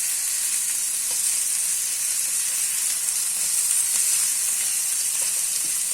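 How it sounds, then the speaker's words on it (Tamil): Vanjaram fish fillets fry in a pan with a constant, dense sizzling hiss, even and close, with faint scraping as pieces are turned over. "ஒரு சைடு வெந்ததுக்கு அப்புறம் இன்னொரு சைடு நல்லா திருப்பி விடுவோம்."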